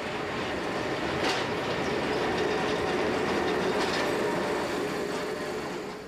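A Swiss commuter train runs along a town's main street near St. Gallen, its wheels rumbling and clacking steadily close by, with a couple of brief high squeals over the continuous rolling noise.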